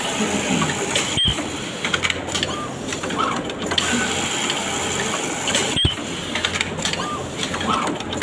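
A garment-factory elastic-making machine runs with a continuous dense mechanical clatter and whir, plus two sharp clicks a few seconds apart.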